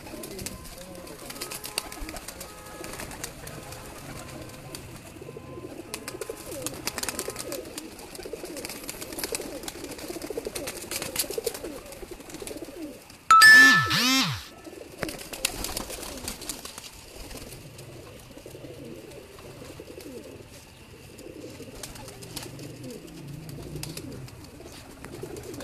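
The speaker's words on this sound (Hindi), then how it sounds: "जो कि इनकी होम ब्रीड है और माशाल्लाह काफ़ी तादाद में कबूतर हैं जी।" Home-bred pigeons coo in soft, continuous low murmurs throughout, with a brief sharp burst of wing clatter and a bright chirp midway, all fairly close and without talk.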